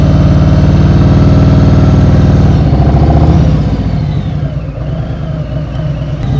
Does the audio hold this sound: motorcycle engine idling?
yes